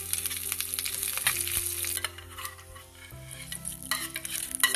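Urad dal roasts with mustard seeds and curry leaves in a pan, a close, lively crackling sizzle mixed with the scrape and clatter of a spoon stirring, no voices.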